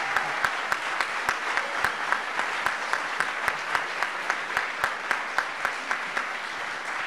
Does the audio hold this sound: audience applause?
yes